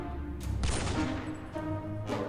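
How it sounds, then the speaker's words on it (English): Gunfire in the video game 60 Seconds! Reatomized: a few sharp reports go off in quick succession over a low rumble, moderately loud and with no talking. "I heard a gunshot"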